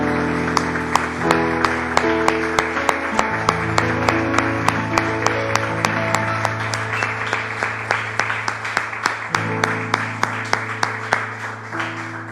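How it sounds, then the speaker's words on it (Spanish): A church congregation applauding together at the close of a service, a steady dense clapping sustained throughout with sustained organ or keyboard chords ringing underneath. "Damos un aplauso al Señor"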